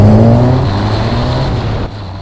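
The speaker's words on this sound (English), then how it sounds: "Right, just got to be gentle with this engine" Formula Ford race car on track at Croft, its engine being run in gently, a loud close buzzing drone with gear-change pitch drops, easing off and tailing away near the end.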